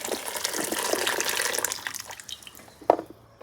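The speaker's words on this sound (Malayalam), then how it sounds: "ലൗലോലിക്ക നമ്മളത് വാട്ടി ഇനി അതിൻ്റെ വെള്ളം ഊറ്റി മാറ്റുക." Water drained off blanched lovi-lovi fruit, a steady close pouring and splashing that thins out after a couple of seconds into scattered drips, with a couple of sharper knocks near the end.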